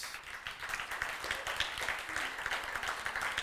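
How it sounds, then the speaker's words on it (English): Scattered clapping from a small group, fairly faint and distant, keeps up steadily without a clear rhythm. "Give a round of applause."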